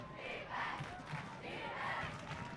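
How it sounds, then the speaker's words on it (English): Distant crowd roaring and cheering at a high school football game in the third quarter, swelling in two waves, faint and reverberant. "by the sound of this crowd and how much they've been engaged"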